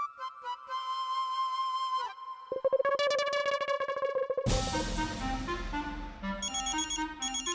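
A phone ringtone plays as a bright electronic melody, shifting through several tonal patterns and growing busier and louder, with no talking over it.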